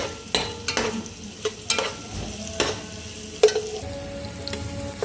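Onions with salt and green chillies sautéing in a pan make a steady low sizzle, broken by sharp clinks and scrapes from the stirring spoon at irregular moments, close and moderately loud with nobody speaking.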